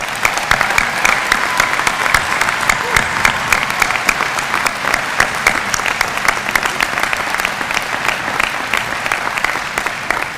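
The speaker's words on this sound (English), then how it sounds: "Let's give him a round of applause" Graduation ceremony audience at a university commencement claps in sustained, dense applause, loud and even throughout without letting up, with no speech over it.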